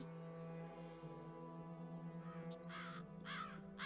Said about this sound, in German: die Krähe, so laut